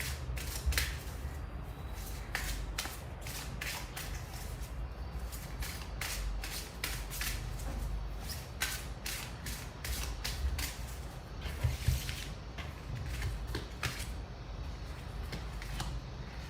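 Tarot cards shuffled by hand for a reading, a fast run of soft riffling and slapping card sounds that keeps going steadily for the whole stretch, close and quiet, with no voice over it.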